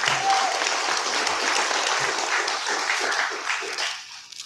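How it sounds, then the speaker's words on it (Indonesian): An audience at a NasDem party press event applauds Anies Baswedan, a dense, sustained burst of clapping that fills the room and fades toward the end, with a faint voice and murmurs mixed in. "kita berikan aplaus"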